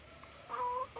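Yellow hybrid chickens cluck softly nearby, a brief run of two or three short clucks over a quiet, faintly humming background with no talking.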